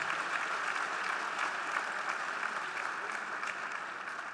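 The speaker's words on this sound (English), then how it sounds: "Can you clap hands for Jesus Christ?" An audience at a Christian testimony session claps hands together in praise, producing a steady, continuous round of many-handed applause that stays even and fairly full for the whole stretch, with no voices rising above it.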